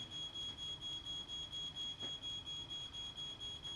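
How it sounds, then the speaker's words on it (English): A ground floor smoke alarm sounding in a fire re-creation with a burning wicker chair, its shrill beeps pulsing in a fast, even, continuous rhythm, fairly faint and alone. "The ground floor smoke alarm activates."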